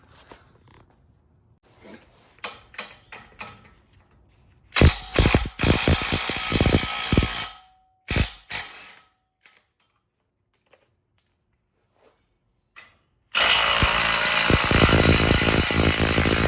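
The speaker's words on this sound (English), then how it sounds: "Gotta take that bolt off and that bolt, and it's 18 millimeter." A hand ratchet works an 18 millimeter bolt on a truck's steering stabilizer, giving loud, close runs of rapid clicking with pauses between them, then a long, steady ratcheting stretch at the end.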